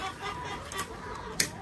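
Chickens cluck softly in a winter greenhouse coop holding around 70 birds, faint scattered calls over windy background noise with one sharper click near the end.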